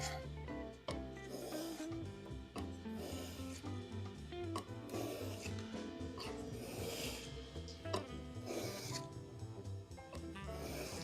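A Stanley No. 5 plane iron being honed on a 600 grit sharpening stone, with repeated wet rasping back-and-forth strokes, close and steady, over background music.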